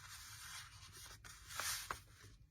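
Sheet of paper folded by hand for a mini junk journal, a soft papery rustle and rub with a couple of crisp creasing swipes near the end, close and quiet with no talking.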